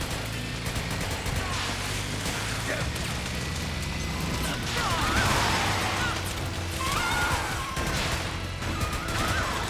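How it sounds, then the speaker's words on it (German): Explosive barrels get shot in Metal Gear Solid 4, with repeated gunfire and crashing blasts throughout a busy game scene, while someone talks over the action. "Ich will mal schön auf die Explosionsfässer schießen."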